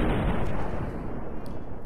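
Fallout New Vegas gunfire and heavy combat booms pour out in a loud, dense, continuous rumble of rapid blasts, with no one talking.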